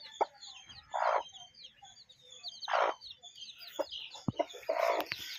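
Native-breed chickens cluck in soft, repeated bursts close by, with high chirps from chicks scattered throughout.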